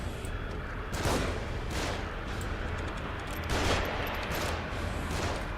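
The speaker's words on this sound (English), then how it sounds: "They're shooting from above." Gunfire raining down from above in a video game: several sharp bursts of shots and booming impacts spaced a second or two apart over a constant noisy battle backdrop.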